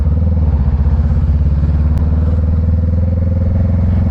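A motorcycle rides along a road at night during food deliveries, its engine a steady, loud low rumble with a throbbing exhaust beat heard close from the rider's position.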